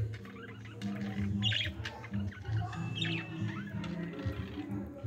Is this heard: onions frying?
no